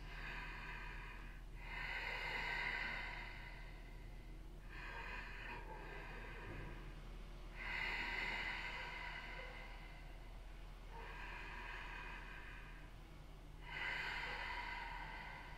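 Slow ujjayi ocean breathing through the nose during a low-to-the-ground yoga practice: long rasping, hissing inhales and exhales in a steady rhythm, close and alone with no talking.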